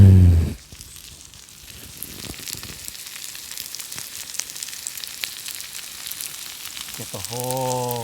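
Food sizzling and burning on the bottom of a pan over a campfire, a steady close crackling hiss that runs throughout, with a short louder burst at the start and a brief voice near the end.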